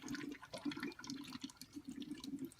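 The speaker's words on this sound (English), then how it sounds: "This is the little water cooling pump." A small water cooling pump with a centrifugal impeller, plumbed into a homemade LED flashlight, gives off a steady low hum with a watery, gurgling texture, running continuously at close range with no voices.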